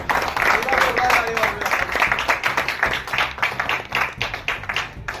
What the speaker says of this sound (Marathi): टाळी पाहिजे अशी वाजत